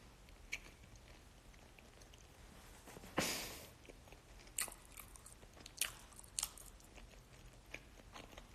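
Someone chewing food up close, with scattered crunchy bites and one louder sharp crunch, quiet between chews and no talk.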